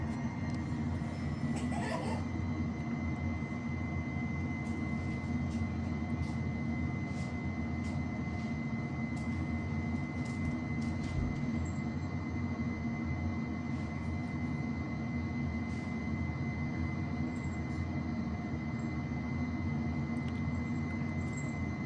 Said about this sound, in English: So we're landing at Des Moines right now.